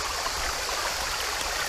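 A waterfall and river stream pour steadily at a tourist-visited falls, a dense, continuous broadband rush with no pauses, close and fairly loud, with no voices.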